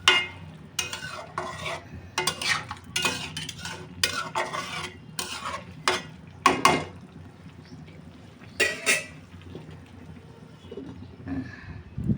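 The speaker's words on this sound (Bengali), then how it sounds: "এবার ভালোভাবে নেড়ে চেড়ে মিশিয়ে ঢাকনা দিয়ে রান্না করবো" Vegetables being stirred in a pan after hot water is added: repeated scraping, clattering strokes in bursts with brief pauses, close and fairly loud, no talking.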